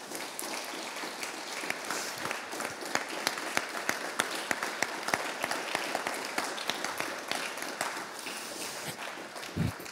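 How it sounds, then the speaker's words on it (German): Audience at a book presentation bursts into sustained applause, a dense wash of many hands clapping steadily throughout with occasional sharper claps standing out. "Sie dürfen jetzt gerne mal klatschen."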